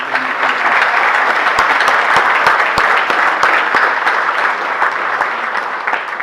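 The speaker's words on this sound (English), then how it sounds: "It's another big round of applause for all of them." Loud, sustained applause from a gala audience at a cowboy hat celebration in Salem County, dense clapping filling the room steadily for about six seconds with no talk over it.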